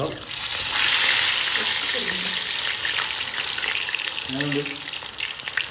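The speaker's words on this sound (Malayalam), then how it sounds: "അപ്പൊ നമ്മുടെ എണ്ണ നന്നായിട്ട് ചൂടായിട്ട് വന്നിട്ടുണ്ട് അപ്പൊ ഈ ബാറ്ററിൽ ഡിപ്പ് ചെയ്തിട്ട്" Batter-dipped banana fritters dropped into hot oil send up a loud, bubbling sizzle that swells early and then holds steady, with a few soft human sounds over it.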